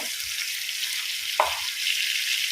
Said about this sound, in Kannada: ಈಗಿದ್ದು ಸ್ವಲ್ಪ ಫ್ರೈ ಆಗಲಿ ಮಸಾಲೆ